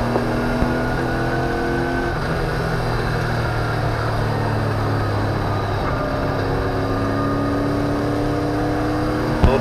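A race car accelerates at full throttle, its engine note climbing steadily in a loud, continuous drone that holds for the whole stretch, with a second engine tone layered underneath and no speech.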